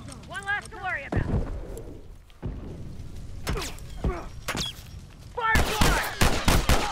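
Enemy rifle fire in The Last of Us Remastered, several sharp loud gunshots spaced irregularly and ending in a rapid cluster, mixed with other game sounds and people talking.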